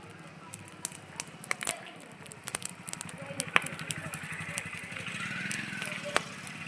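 A bonfire lit for warmth on a cold evening crackles steadily with frequent sharp pops and snaps, heard close by beneath ongoing conversation.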